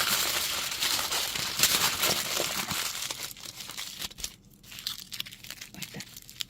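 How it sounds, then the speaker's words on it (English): Material for a miniature spooky tree diorama is crumpled by hand up close in dense, continuous crinkling and crackling that thins out after the midpoint into sparser crunches. "And now I'm going to do the crumpling with it."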